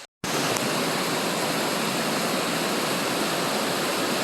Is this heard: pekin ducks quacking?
no